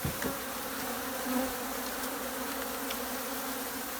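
Honeybees from an unusually thick hive being opened hum in a dense, continuous buzz that fills the space close by, steady throughout with no speech.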